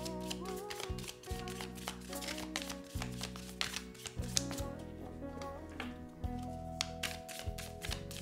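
Tarot cards drawn and handled from a deck during a reading: soft repeated card slides, flicks and taps in an irregular rhythm, close and fairly quiet, with music playing underneath.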